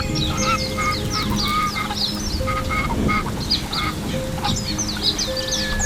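White ducks at a lotus pond in a 3D animated village scene quack and honk repeatedly in a lively, continuous chorus over a steady background.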